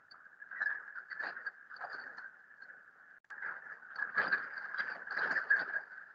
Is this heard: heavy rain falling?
yes